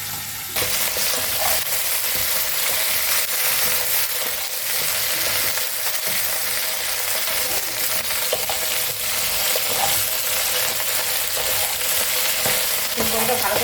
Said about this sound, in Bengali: ফুলকপিটা ভালো করে ভাজবো একদম।